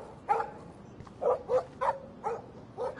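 A dog barks in a PS4 video game, with six short, clipped barks spaced at a steady rhythm, moderately loud over a faint ambient game backdrop and no talk.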